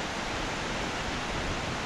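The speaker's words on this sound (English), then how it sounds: "What about this waterfall?" A Corrie Fee waterfall in the Scottish hills near Mayar and Driesh gives a steady, dense roar of rushing water, loud and close, unbroken and without voices.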